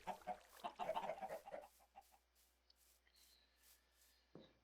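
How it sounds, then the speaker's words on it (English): Virtual chickens in a modded block-building game cluck in a quick burst of soft, low-level calls, followed by scattered faint taps and a brief thump near the end. "We got lots of chickens now."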